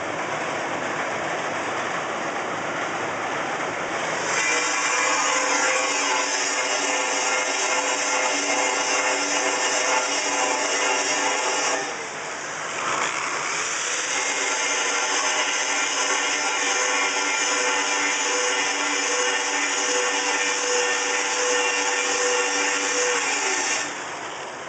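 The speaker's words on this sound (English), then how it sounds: "this is the belt sander" A belt sander in a glass workshop runs steadily with a loud, harsh whir and abrasive hiss, dipping briefly about halfway through before resuming at full strength; no talking.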